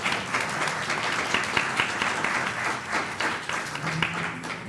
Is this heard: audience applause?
yes